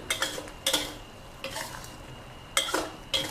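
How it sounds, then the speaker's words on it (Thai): Metal spatula scrapes and stirs fish balls in red curry paste with long beans, chili and kaffir lime leaves in a pan, in short bursts with a faint sizzle between them. "ผัดแบบน้ำคลุกคลิกค่ะ"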